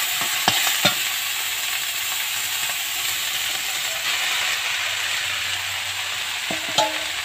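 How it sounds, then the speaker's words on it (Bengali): Greens and chili sizzle in a hot pan while cooking for a leafy shaak dish with whole cumin, a steady loud frying hiss running throughout, broken by a few sharp utensil clinks near the start and end. "এবার আমি শাকগুলো দিয়ে দিচ্ছি একদম শাক আর লঙ্কাটা একসঙ্গে দিয়ে দিলাম"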